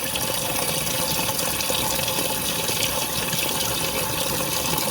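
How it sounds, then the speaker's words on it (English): Water rushes into a central heating system's pipes in a steady, loud, hissing flow that continues unbroken throughout. "Water's running in."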